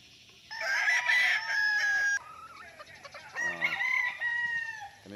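A Kearney Whitehackle gamefowl rooster crows once, a loud, close crow lasting nearly two seconds, followed by softer clucking and a shorter second call over faint farmyard background.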